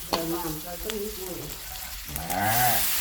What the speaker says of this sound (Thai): มัดให้เข้ากันให้ทั่วถึงตัวกระทะครับ